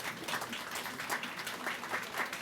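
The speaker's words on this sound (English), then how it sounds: "y'all can do better than that in applauding them." An audience at a Pride Month reception in Prince George's County claps steadily, a dense wash of applause at moderate distance with no talk.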